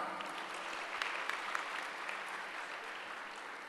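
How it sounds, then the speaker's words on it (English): Audience applause at a conference technical session, a steady wash of many hands clapping at moderate distance, evenly sustained with a few sharper individual claps standing out. "Please give them a huge round of applause."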